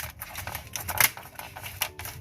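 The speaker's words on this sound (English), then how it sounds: "Now put the laptop keyboard back like this." A replacement laptop keyboard is pressed and snapped into its locking tabs during a repair, giving a dense run of soft, close plastic clicks and taps with one sharper click standing out in the middle.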